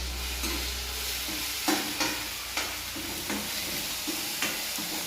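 Green chili and potato fry in a pan with a constant close sizzle, punctuated by periodic clinks and scrapes as the mix is stirred; no voices.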